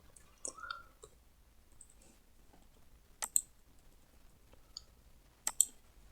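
Computer mouse clicks sound in a quiet room: a few sparse, crisp single clicks spaced several seconds apart, close and clear against near silence.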